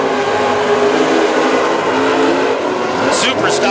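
WISSOTA Super Stock race cars roar around the Princeton Speedway track in a heat race, a loud continuous engine drone with a commentator talking over it throughout.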